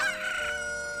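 A cucco chicken in Ocarina of Time lets out one short, shrill, tonal squawk that holds steady for about a second, fairly faint and heard alone.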